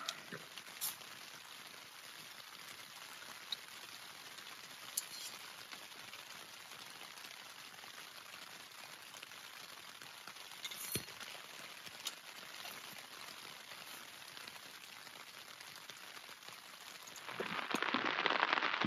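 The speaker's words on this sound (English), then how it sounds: "Sometimes the rain comes down harder, sometimes lighter, but it's definitely always there." Steady rain falls continuously while camping, a dense hiss of drops on surfaces, getting a bit heavier and brighter near the end.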